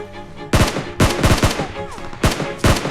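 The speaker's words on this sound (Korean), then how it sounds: "총소리 총소리 총소리" Loud, close gunfire in PUBG Mobile: several sharp shots in irregular bursts, some in quick pairs, over a steady background of game sound.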